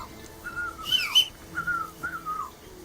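A character whistles a tune in Kingdom Come: Deliverance II, a series of clear, melodic whistled phrases rising and falling, close and distinct over a faint game ambience.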